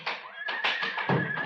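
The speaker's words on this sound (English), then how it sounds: "Hey, quiet in there, you fool horse!" A horse whinnies from inside a closed van in a 1952 Roy Rogers TV western, a short, shrill, wavering neigh heard close and slightly muffled.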